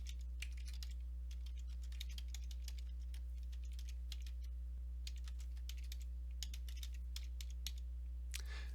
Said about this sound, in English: I am going to type Aspen Falls Human Resources.